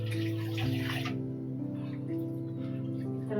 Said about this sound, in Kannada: ಇನ್ನೊಂಚೂರು ಹಾಕೋಣ ಗೈಸ್ ನೀರು